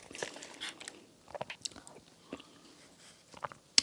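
Someone bites and chews tonkatsu curry at close range during a mukbang, with soft wet crunches and smacking sounds scattered irregularly through a quiet background.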